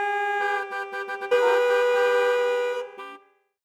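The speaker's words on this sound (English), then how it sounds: "The city is busy, with cars honking and people rushing." Car horns honk in busy city traffic, one clear harmonic-rich horn giving several short stuttered toots and then a long sustained blast that fades out.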